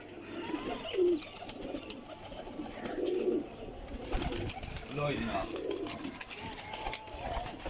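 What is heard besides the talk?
pigeons cooing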